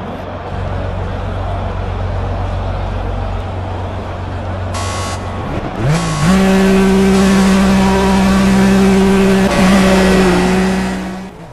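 Race car engine in the video game Project Cars, a Lykan HyperSport on a track in Belgium, droning loudly and steadily, then rising in pitch as it revs and accelerates, sustained and close throughout.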